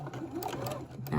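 A sewing machine back-stitches a fabric face mask in a short, steady mechanical whir of rapid needle strokes, close and clear, with a voice speaking faintly over it.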